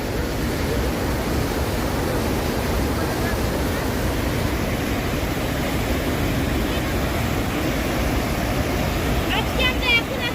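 Water rushing through Bindu Barrage dam in Kalimpong, West Bengal, a loud, steady broadband roar filling the whole stretch, with a faint bird chirp near the end.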